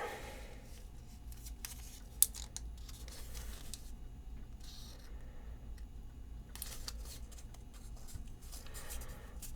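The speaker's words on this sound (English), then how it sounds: "Alright, I fold you over this way." A US dollar bill is creased and folded into an origami buzzard, giving soft close paper rustles and crinkles with a few brief sharper crisp bursts, quiet and without talk.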